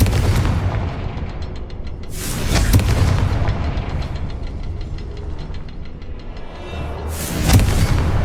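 Confringo fire spells in Hogwarts Legacy burst in a few heavy booming explosions, one early and one near the end, each swelling and fading over a low, rumbling game background, with no talk.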